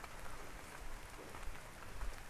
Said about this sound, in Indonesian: suara rincik hujan di sini ya